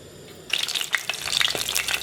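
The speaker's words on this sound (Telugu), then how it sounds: "అందులో పచ్చిమిరపకాయలు వేసి 1 నిమిషం ఫ్రై చేసి కరివేపాకు కూడా వేసి ఫ్రై చేయాలి." Green chillies and curry leaves hit hot oil and fry with a sudden bright crackle and sizzle that starts partway in and continues loud and close to the end.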